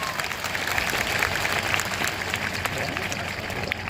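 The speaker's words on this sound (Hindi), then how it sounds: "बच्चे एक और बार बहुत जोरदार ताली हो जाए" Children at a school's annual function, marking its 90th year in Jaunpur district, clap loudly and steadily in a dense, sustained burst of applause with a busy crowd murmur mixed in.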